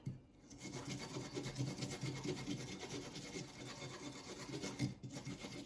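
Food with its dirty skin scraped off is rubbed back and forth on a grater for a kale and quinoa salad, giving a quiet, steady rasping scrape that repeats in an even rhythm with brief pauses.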